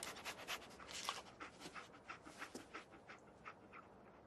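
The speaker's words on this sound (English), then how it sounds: "Dog meat. Get the scent, boy." Dogmeat, the dog companion in Fallout 4, pants in quick rhythmic breaths and sniffs close by, with soft bursts rising and falling and no talk.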